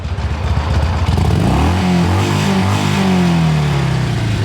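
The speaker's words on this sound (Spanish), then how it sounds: "Ahora vamos a ver más o menos el tope de las revoluciones." Up close, a Harley-Davidson 883 SuperLow motorcycle engine rumbles at idle, then revs up to a sustained high-rpm howl near the rev limit before easing back down.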